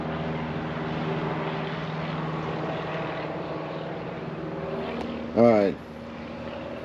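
An airplane passes overhead as a steady, droning engine hum that persists throughout at moderate level, with a short spoken phrase near the end.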